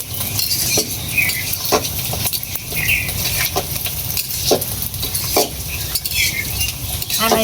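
Spices being stirred in a cooking pot: a rhythmic run of scraping and knocking strokes about once a second over a continuous sizzle, close and fairly loud, with no speech.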